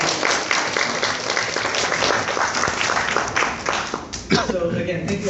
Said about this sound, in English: can we get a round of applause for the Barnes & Noble staff?